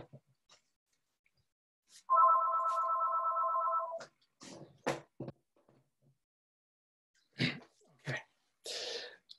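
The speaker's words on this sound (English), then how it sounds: "it seems to be my phone. I will just disconnect it." A mobile phone rings during a lecture on addiction counseling, a steady electronic warble lasting about two seconds, followed by scattered rustling, coughs and breaths nearby.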